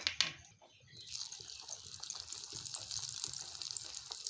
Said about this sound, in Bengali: এখন এইগুলোকে আবারও ভেজে নেব।